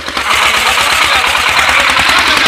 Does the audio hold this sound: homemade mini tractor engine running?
yes